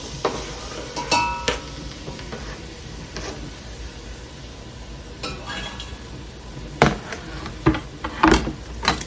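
Ground beef and onion cook together in a pan for chili, a low continuous frying hiss underneath occasional sharp clinks and scrapes of a utensil against the pan, close and fairly steady.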